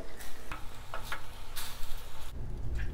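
Bok choy cooks in a hot pan with a constant close sizzle, broken by several quick bright stirring clatters.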